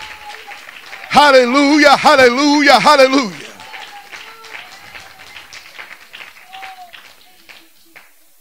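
A church congregation claps in praise: a preacher loudly shouts at first, then scattered, fairly soft handclaps and murmurs continue in a reverberant hall.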